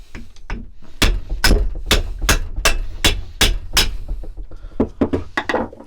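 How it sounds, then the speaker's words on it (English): Hammer taps ring out on metal, knocking a cup out of a BMW M54 driveshaft part, in a steady run of about eight sharp strikes, close and loud, followed by a few lighter clinks and knocks. "get a hammer and tap the cup out"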